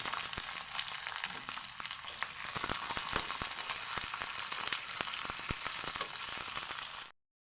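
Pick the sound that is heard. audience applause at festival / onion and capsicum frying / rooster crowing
onion and capsicum frying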